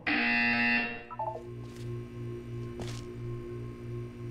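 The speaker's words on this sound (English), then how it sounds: "You will hear a buzzer." A video game buzzer in Portal 2 blares loudly for about a second, then gives way to a quieter rhythmic pulsing tone and a couple of soft electronic swooshes.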